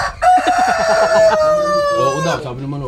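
A Rhode Island chicken crows loudly up close, one long rising-and-falling call over a couple of seconds, with a person speaking briefly over the end.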